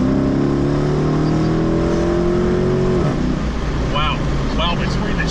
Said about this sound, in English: So the Borla exhaust and the power of this car paired together, oh my god, that was amazing.